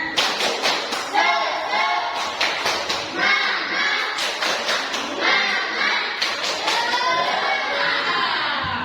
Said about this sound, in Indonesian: silakan kita tepuk semangat dulu